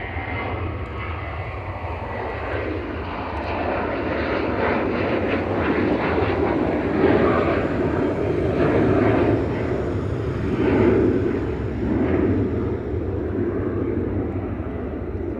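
A Boeing 737-800 departs Manchester Airport, its jet engines building into a broad, swelling roar that rises and holds, fairly close and alone with no speech.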